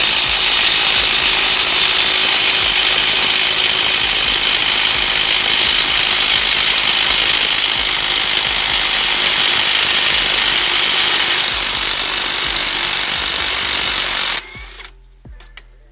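A Bauer impact wrench works loose nuts and bolts on a truck, giving a loud, steady high-pitched buzz and hammering for about fourteen seconds before stopping abruptly, with faint clatter afterward.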